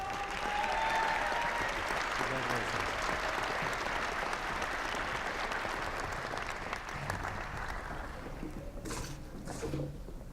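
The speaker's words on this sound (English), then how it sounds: "I heard a lot of good cheering out there." Graduates' audience at a university winter commencement ceremony cheers and applauds loudly in a sustained wash of clapping that gradually thins toward the end, with scattered shouts.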